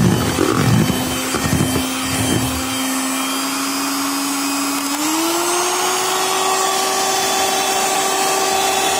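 An electric hand mixer whirs steadily while beating flour into banana cake batter, a continuous close motor drone with a few knocks of the beaters early on, and a slight rise in pitch midway as the speed changes.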